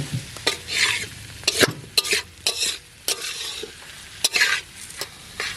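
Cauliflower and potato curry is stirred in a hot pan, with a loud frying sizzle and repeated scraping strokes of a spoon against the pan in an irregular rhythm.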